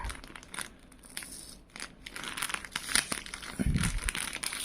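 Sticker-sealed packaging of resistors being torn open by hand, close crinkling and tearing of plastic in uneven bursts that grow louder toward the end.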